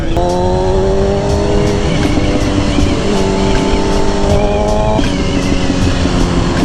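A stock 2003–2004 Kawasaki ZX6R sport motorcycle is ridden at a high, steady engine whine. It is loud and close, with the pitch climbing and then resetting as it shifts gears, and it continues without a break.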